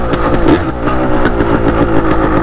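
A motorcycle engine revs loudly and steadily close by, a dense throaty drone with slight surges and no voices over it.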